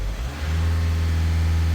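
A Volkswagen Caddy, parked and with a water leak, is revved in place: a brief dip, then the engine climbs and holds at a steady high drone that never goes past about 2000 rpm, loud and close.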